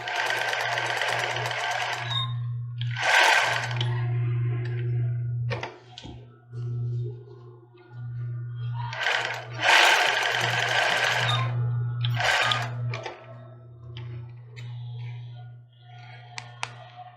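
Sewing machine running a zigzag stitch on a child's bra, bursts of loud rapid whirring and clatter separated by brief pauses, close by.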